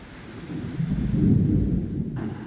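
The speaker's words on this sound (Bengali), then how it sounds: "মেঘ ডাকছে" Thunder rolling in a low, swelling rumble over steady rain pattering on surfaces outdoors, loud and continuous for the whole moment with no voices.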